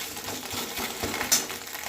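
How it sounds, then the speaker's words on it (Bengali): Ginger paste is stirred in a frying pan with a soft, close sizzle and a few brief scraping strokes over two seconds, ending in one slightly sharper scrape. "আদাটাকে একটু নাড়াচাড়া করে নিই"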